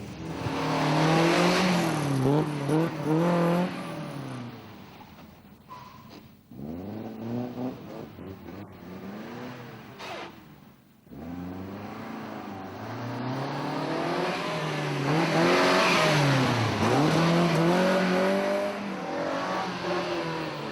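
A rally car is driven downhill on a test stage at the Rally of the Tests, its engine loud and close, revs climbing and falling repeatedly with a brief dip partway through before pulling hard again.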